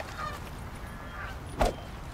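Geese in the video game Horizon Zero Dawn give a loud nasal honk, one sharp call standing out against a soft, constant outdoor ambience, with fainter honks further off before it.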